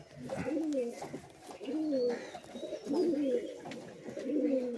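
Several very small loft pigeons, a long-flying breed kept at a home, coo in repeated rolling phrases, close and fairly loud, roughly once a second, with faint background noise and no talk.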